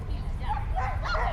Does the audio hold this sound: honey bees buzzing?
no